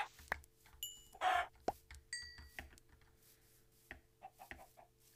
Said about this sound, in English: Chickens, yes, chickens.